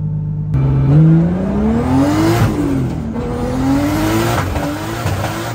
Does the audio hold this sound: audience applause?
no